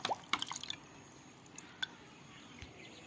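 Homemade lemon-based fertilizer for a mogra plant is stirred into water in a mug, giving a few close liquid drips and sloshes at the start, then isolated faint drops against a quiet background.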